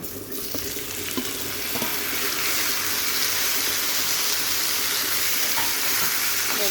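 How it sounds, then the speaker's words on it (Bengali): Tomato tipped into a pan of fried chopped onion and turmeric sets off a steady, loud sizzle that builds after the first couple of seconds and then holds, with faint scraping now and then. "এবার টমেটোটা আমি দিয়ে দিব।"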